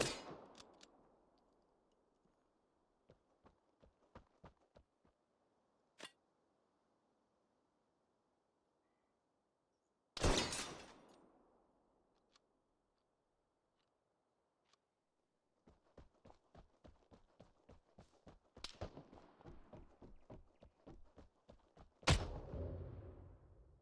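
Crossbow shots in the game Vigor during weapon testing: sharp, isolated cracks with short decays, some loud and near, separated by quiet gaps, with clusters of faint rapid ticks and thuds between them.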